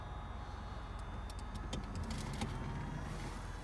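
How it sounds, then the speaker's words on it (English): The convertible roof motor of a 2018 Chevrolet Camaro 2.0T with 41,000 miles whirs steadily up close, with a series of clicks and ticks as the top moves into place. "you can see the top coming over now"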